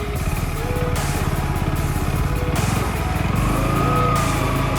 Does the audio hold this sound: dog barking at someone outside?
no